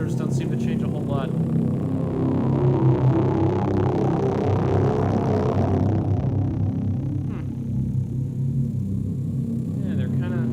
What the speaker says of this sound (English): The chorus effect can be heard.